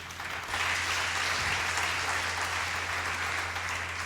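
Church worshippers burst into loud, sustained applause acclaiming the Lord. The clapping swells in after a brief lead-in and continues thick and even to the end.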